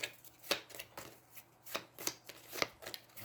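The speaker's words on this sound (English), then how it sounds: "I can then shuffle a turn order card back into the deck." Someone shuffles a deck of cards from the Aeons End 2nd Edition board game. It comes as a series of quiet, crisp riffling bursts at an irregular rhythm, close by and with no voices.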